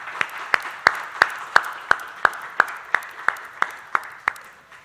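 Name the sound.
applause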